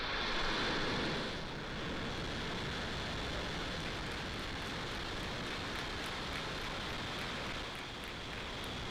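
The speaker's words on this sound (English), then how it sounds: "Ignition and liftoff." Steady, broad roar of SpaceX rocket engines at liftoff on the Transporter 3 mission, a continuous rumbling wash that stays fairly even throughout with no voices.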